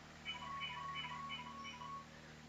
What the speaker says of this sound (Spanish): Me está molestando el teléfono, espero que se corte.